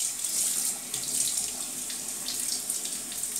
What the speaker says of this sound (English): Swishing it around a little bit in the water.